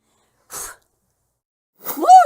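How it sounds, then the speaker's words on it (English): A voice acts out a sneeze: a short sharp intake of breath, a pause, then a loud, voiced sneeze burst. "You're supposed to scare him, not make him sneeze."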